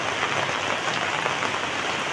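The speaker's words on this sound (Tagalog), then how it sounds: "Lakas na ulan." Heavy typhoon rain pours down steadily, a dense, loud, even hiss of drops striking surfaces close by with no pauses and no voices.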